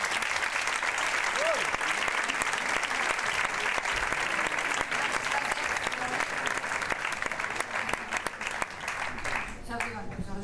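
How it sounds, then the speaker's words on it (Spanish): Steady, dense audience applause fills a hall at the Barcelona critics' awards ceremony, continuous clapping from a large crowd lasting throughout. "Un aplaudiment."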